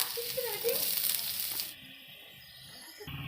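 Carrots sizzle loudly in hot oil in a wok for about a second and a half, then the hiss cuts off, leaving quieter room noise with faint stirring sounds.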